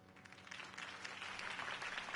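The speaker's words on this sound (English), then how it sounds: "If only Mr. Wayne, my campaign's largest backer, could have heard that applause" A crowd at a campaign rally in a Batman game scene applauds after a speech, a soft, fairly distant wash of clapping that swells gradually as it continues.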